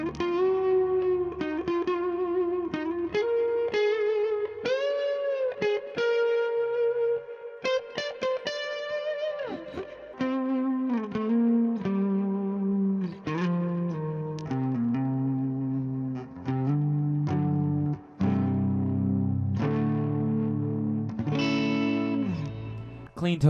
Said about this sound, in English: I like to do clean tones on the neck usually anyways.